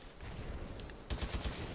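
Rapid automatic fire from an SMR rifle in the video game Titanfall 2, a short burst of evenly spaced cracks starting partway in after a quieter, murky stretch of game ambience.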